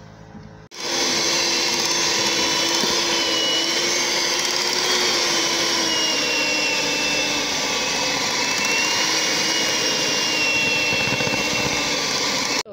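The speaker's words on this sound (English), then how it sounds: "So I'm going to use mixer now to mix it very," An electric mixer whirring in Molato soap mixture, switching on abruptly and running at a steady, close, loud drone for several seconds before cutting off.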